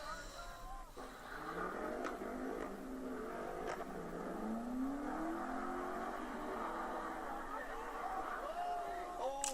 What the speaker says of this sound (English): And he lost control of the car.